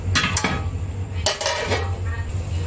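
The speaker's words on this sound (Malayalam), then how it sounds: "തിളച്ചു വരാൻ വേണ്ടി നമുക്കിതൊന്ന് അടച്ചു നോക്കാം" A metal lid goes onto a pot of puli rasam on a gas stove, giving a few sharp clanks and clinks of cookware, close and fairly loud, with no talk.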